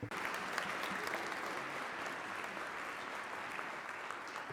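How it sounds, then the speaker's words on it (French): Sustained applause from a conference audience at an ILO social protection financing session, a dense, even roar of many hands clapping at once with no talk over it. "Applaudissements pour les intervenants"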